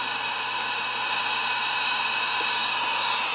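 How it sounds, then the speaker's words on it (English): A homemade electronic white noise generator hisses out a steady, even broadband noise with a faint low hum beneath, constant and unchanging throughout. "So we've got a working white noise generator."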